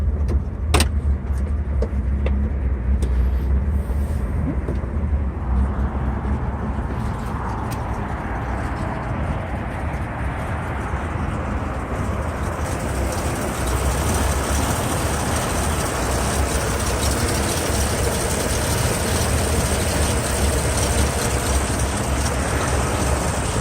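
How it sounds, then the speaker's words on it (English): A 1964½ Ford Mustang convertible with its 289 Hi-Po V8 idles steadily and close by, a smooth continuous low rumble lasting throughout with no talk over it. "And this car just purrs."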